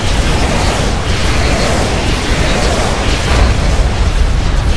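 Loud, continuous rumbling explosions and heavy weapon fire from the Universal Colossus in the strategy game Supreme Commander 2, a dense roar with no pauses.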